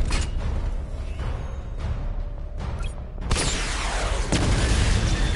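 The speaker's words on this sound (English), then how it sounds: "Charge the missile barrage to level 2 to destroy up to 4 targets at once." Missile barrage explosions in a Batman video game: a dense, rumbling roar of booms and bursts, swelling into a louder, sharper wave of impacts partway through and continuing as a heavy, rolling wall of blasts.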